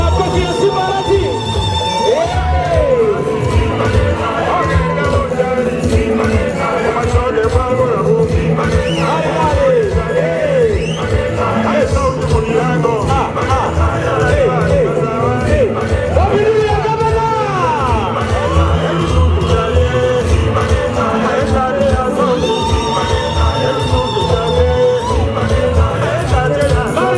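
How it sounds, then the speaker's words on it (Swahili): A large outdoor crowd at a governor's swearing-in in Kisii County roars and cheers continuously over a loud amplified voice, with whoops rising throughout. "Makofi! Makofi ya Simba Arati!"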